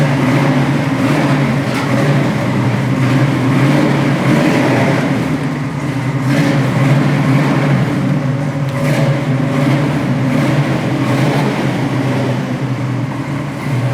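A 1969 Chevy Nova engine idles steadily and loudly at close range, a continuous rumble holding throughout with no talk over it.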